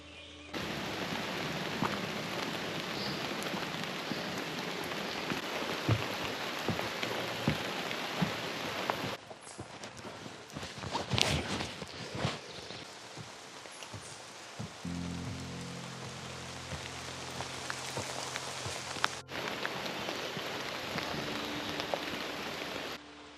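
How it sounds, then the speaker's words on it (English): Steady rain hisses and patters on surfaces in rural Iowa near caves, briefly breaking into scattered drips and knocks before the heavy downpour returns. "I didn't even notice the rain coming back."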